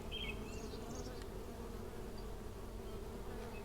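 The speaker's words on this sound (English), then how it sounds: "Now you see the bees coming out." Steady, dense buzzing of many honey bees close by, coming out of a hive colony, a continuous droning hum with no voices.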